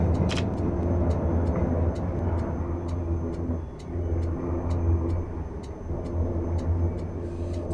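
A tram pulling away in the LOTUS simulator, Ficta Minga map: a steady low motor rumble with faint regular ticking on top, holding an even level throughout with a brief dip midway, no voices.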